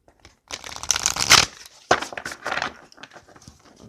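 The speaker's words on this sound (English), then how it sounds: "Let's shuffle it one more time." Quick riffling bursts of shuffled cards, two main flurries with soft handling rustles between them, close and crisp.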